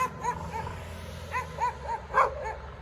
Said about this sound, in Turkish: Muğla'nın köpek. Köpeği.